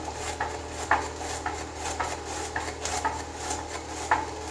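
Rhythmic scraping strokes of cabbage being sliced thinly on a hand vegetable slicer, a repeated rasping swish about every half second against a steady background hum.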